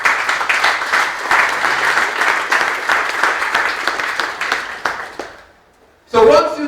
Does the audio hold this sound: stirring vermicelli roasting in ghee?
no